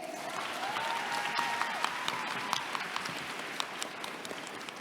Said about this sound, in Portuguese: Gente, palmas para Blanche Kendé!